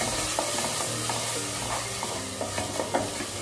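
Masala with two finely chopped medium tomatoes is roasted over a very low flame for lauki chana dal. A spoon scrapes and stirs it in rhythmic strokes over a soft, continuous sizzle, close and without voices.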